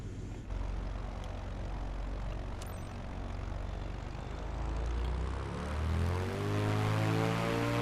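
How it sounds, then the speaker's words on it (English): Propeller engine of a Corvalis aircraft in Microsoft Flight Simulator 2024, a steady loud droning hum that swells and shifts in pitch as the propeller is adjusted, with no talking. "I need to adjust my engine propeller."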